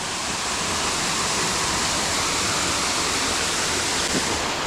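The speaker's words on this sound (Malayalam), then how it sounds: "ഇത് ജസ്റ്റ് ചിറകട്ടിയ തോട് അത്രയേ ഉള്ളൂ" A small stream in a shallow channel beside a waterfall site, its water rushing in a steady, dense broadband wash that stays loud and close for the whole stretch, with no talking over it.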